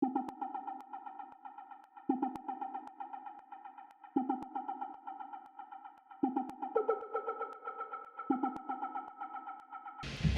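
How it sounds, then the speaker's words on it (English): Little echoey delay synth bloops in a deep lo-fi house track, sounding as short bright notes in a repeating pattern every couple of seconds, each trailing off in echoing repeats, alone with no voices. "I've got these little echoey delay bloops."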